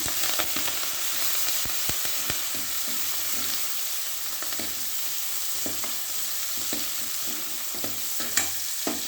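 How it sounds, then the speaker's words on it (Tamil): Onions with green chillies and curry leaves sizzle and fry steadily in a pan for green gram curry, a continuous crackle broken by occasional scrapes and stirs of a spoon, heard up close with no talking. "வெங்காயம் இதை நல்லா வணக்கிட்டு"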